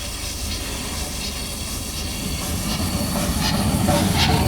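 Midland Compound steam locomotive No. 2631, built in 1902, giving a steady, loud hiss of steam over a low rumble, swelling slightly louder toward the end.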